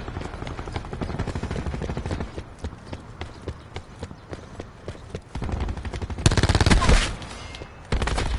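Rapid bursts of machine-gun fire from a Spitfire plane in an online video game, rattling in fast rhythmic volleys with louder blasts near the end, no talking.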